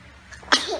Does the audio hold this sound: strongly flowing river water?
no